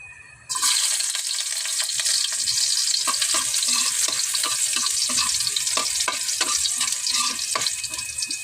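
Sardines and sweet potato leaves sauté in a hot pan with a loud, continuous sizzle and frying hiss. The sizzle starts abruptly and carries sporadic clinks of stirring throughout.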